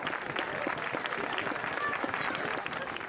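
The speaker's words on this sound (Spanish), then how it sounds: "Antía, forte aplauso para ela." An audience at a singing contest final applauds the young singer Antía, steady dense clapping throughout, fairly loud and even, with faint voices underneath.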